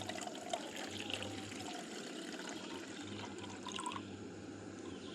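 Measured water poured from a cup for camping coffee in a forest, giving a continuous soft trickle and pour over a low steady hum, with no talk.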